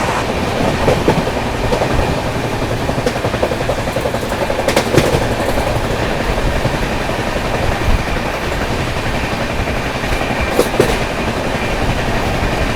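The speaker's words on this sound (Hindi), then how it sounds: "सामने से आ रही है आप लोगों की मडगांव चंडीगढ़ गोवा संपर्क क्रांति।" The Madgaon–Chandigarh Goa Sampark Kranti Express approaches a railway crossing with a loud, steady rumble and faint rail clatter that stays continuous, with no voices.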